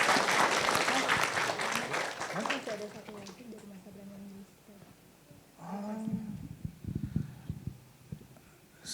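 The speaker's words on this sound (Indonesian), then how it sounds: "Oke, kita beri tepuk tangan teman-teman semuanya" An audience at a creative keynote Q&A bursts into loud, dense applause that fades after a few seconds, then a voice talks over a quieter background and scattered claps.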